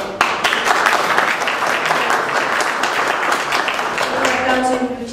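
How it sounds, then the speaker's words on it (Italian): A lecture audience applauds warmly for a book's author at a talk about the history of Sannazzaro, a steady, dense burst of clapping that holds at full strength for the whole stretch before easing slightly at the end. "Un applauso in più ci sta."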